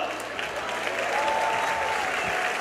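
Sustained crowd applause fills a stadium after a men's bouldering final in Genova, a steady dense wash of clapping close and loud throughout.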